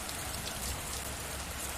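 Rain falls steadily outside, a soft, even hiss of drops at low volume with no other sounds.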